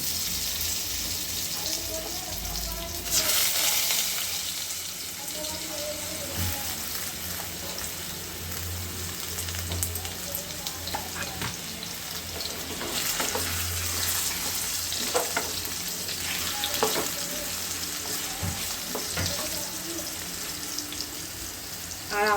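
Potatoes fry in hot oil with cumin and bay leaf, a steady close sizzle broken by occasional stirring scrapes and clinks from the pan, for a bottle gourd curry.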